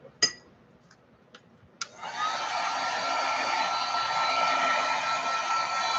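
Hair dryer blowing to dry gesso on a piece of steampunk wall art, starting with a click after a few faint ticks and then running as a steady, loud whoosh.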